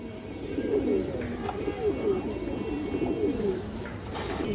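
Paired pigeons in a loft give a steady run of overlapping, throaty rolling coos close by, with soft background noise throughout.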